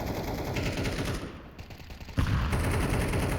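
Counter-Strike match on the Ancient map in an esports league game, with rapid bursts of automatic rifle fire and gunshots, loud and dense, easing briefly before another sustained volley.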